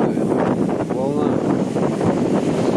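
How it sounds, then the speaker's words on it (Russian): Strong wind roaring across a stormy sea at Yalta in October, steady broadband buffeting against the microphone with surf mixed in, loud and continuous throughout. "Сильный ветер, как вы сами слышите."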